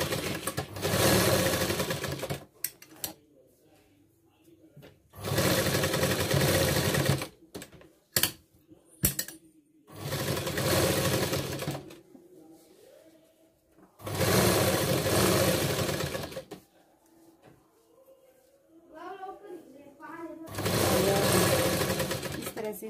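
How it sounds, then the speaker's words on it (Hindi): A sewing machine stitches the side seam of a blouse in five loud bursts of fast whirring, separated by quiet gaps with small handling clicks and some soft talk. "तो हम एक सिलाई साइड से लगाएंगे।"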